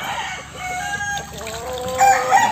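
A gamefowl rooster crows loud and close with drawn-out calls, with a few clucks mixed in and no talk.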